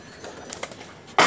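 Pigeons in a Lahore pigeon keeper's loft give a few soft, close coos over quiet background, ending in a sudden louder burst that may be wings flapping.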